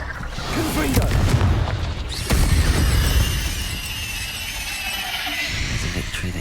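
The fiery Confringo blast spell goes off in Hogwarts Legacy as loud booming explosions with crackling debris, two strong hits close together amid ongoing combat noise; a voice speaks briefly.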